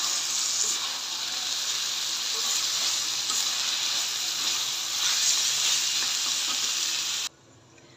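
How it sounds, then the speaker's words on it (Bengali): Meat braising and searing in a covered pan on a home stove, a steady loud sizzle and hiss running continuously before cutting off abruptly near the end. "মাংসটা আমি এভাবে ঢেকে ঢেকে একটু কষিয়ে নিব"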